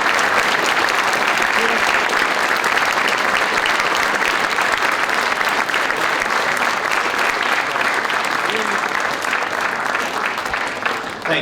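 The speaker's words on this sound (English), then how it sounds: "let's honor these men and women with a round of applause." A school audience at a Veterans Day ceremony gives sustained, dense applause in honor of veterans, loud and steady throughout with a faint murmur of voices under the clapping.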